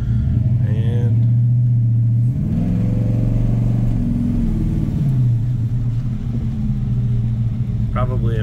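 A 1985 Chevrolet C10 Silverado pickup with a 383 V8 accelerating, a loud, close, throaty engine drone that rises and falls in pitch through gear changes, with a person talking over it.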